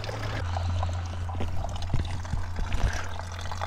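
Cool mountain water pours steadily from a roadside water point in Bulgaria, a close, continuous splashing stream over a low engine-like hum.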